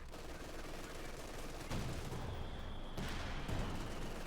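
Machine gun fire in Company of Heroes 2, a World War II strategy match, rattling steadily at moderate volume with heavier thuds breaking in and commentary talk faintly beneath.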